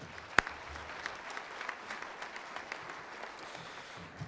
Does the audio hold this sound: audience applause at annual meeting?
yes